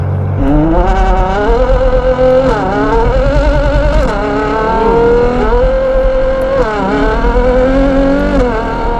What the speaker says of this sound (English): We've got a NOVITEC exhaust system as well